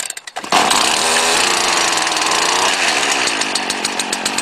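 A 2010 STIHL FS 70 RC string trimmer fires after a pull start on choke, its small two-stroke engine snapping into a loud, steady, buzzing high-revving drone that holds close and unbroken.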